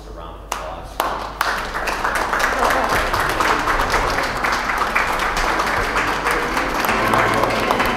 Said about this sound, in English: Let's offer our couples a round of applause.